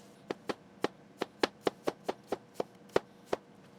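Knife chopping onions on a cutting board for kimchi jjigae, about a dozen crisp, close knocks in a fairly even rhythm, no talking.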